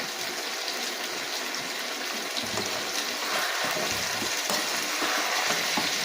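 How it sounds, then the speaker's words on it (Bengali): Diced potatoes with salt and turmeric are stirred and sautéed in a pan, giving a continuous close sizzling hiss with scraping texture and no voices. "এবার আমি এটাকে ভালো করে কষবো"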